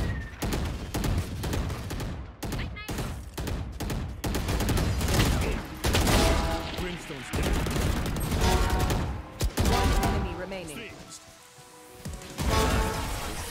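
Valorant gunfire: rapid volleys of sharp, loud shots in bursts and single cracks, densely repeated over several seconds, with a brief quieter lull before firing resumes.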